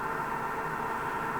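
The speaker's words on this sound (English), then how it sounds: "Sorry about the fan, but the fan just kicked on." An electric fan runs steadily, giving a constant, even whoosh of air noise that stays unchanged throughout, with no voices over it.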